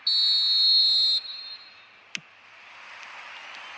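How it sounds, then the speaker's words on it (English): Referee whistle blowing for kick-off in the eFootball mobile football video game: one loud, steady, high blast of about a second, followed by a soft crowd hum and a brief click. "There's the whistle, and here we go."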